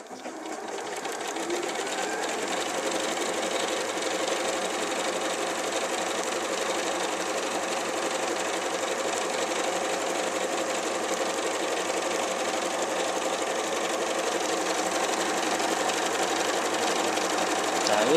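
An Elna Lotus sewing machine stitching decorative edge stitches runs in a fast, steady mechanical whir with a rapid needle chatter, close and even, continuing unbroken after a brief start near the beginning.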